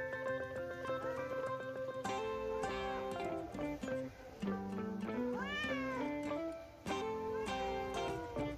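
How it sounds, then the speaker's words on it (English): A cat meows several times in rising and falling wails, heard clearly over continuous background music. "Meow."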